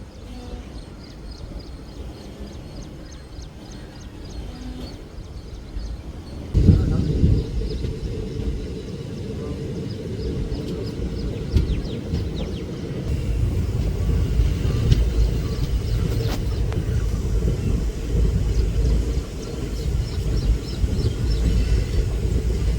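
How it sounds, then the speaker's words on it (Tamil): A train rumbles in alongside a stopped passenger train waiting at a signal before Salem Junction. A heavy, rising low roar sets in and then stays steady and loud, with people talking over it. "அங்க ஒரு ட்ரெயின் வந்து மெர்ஜ் ஆகுது நம்மளோட"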